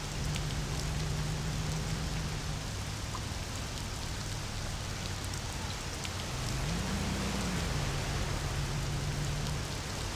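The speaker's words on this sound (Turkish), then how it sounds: "Yağmurda nasıl yağıyor?" Steady rainfall in the Mafia video game, a constant hiss of drops on surfaces with a low engine-like hum underneath that briefly rises in pitch, no talking.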